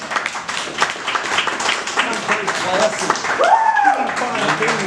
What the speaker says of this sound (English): give a huge round of applause to Dean Fontaine.